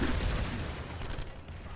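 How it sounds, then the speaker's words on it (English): Grenades bursting amid gunfire in a shooter video game, a short, fairly faint rattle of dense shots and dull blasts with no talking. "Grenades are going off."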